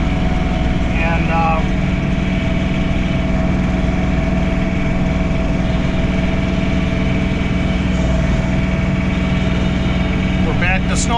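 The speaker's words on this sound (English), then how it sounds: "we're back to snow blowing." A John Deere 3046R compact tractor clears a snowy driveway and walks with a snow blower. A loud, steady engine drone with a constant mechanical whine continues without a break for the whole stretch.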